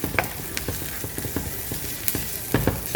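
Ground beef frying in a pan for meat pies, a steady close sizzle broken by several sharp crackles and pops that grow louder near the end, with no talking.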